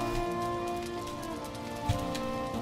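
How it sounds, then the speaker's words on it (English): Steady rainfall in the Valheim survival game, a constant hiss of drops on surfaces with a few tonal layers underneath and one brief soft thump partway through. "Why is it always raining?"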